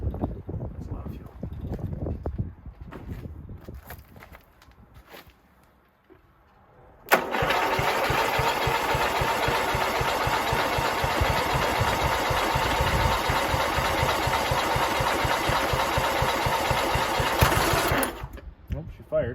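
A lawn mower or small tractor engine, fed a lot of fuel after a tune-up, fires suddenly and runs loud and steady for about eleven seconds before cutting out, with talk and handling noises before it starts.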